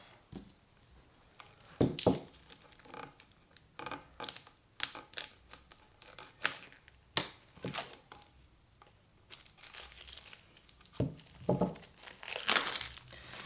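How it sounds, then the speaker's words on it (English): Plastic wrap is peeled off a bamboo chopping board with intermittent crinkling and crackling bursts, close up, some louder tearing rustles among quieter pauses. "So I'm just going to take the plastic off."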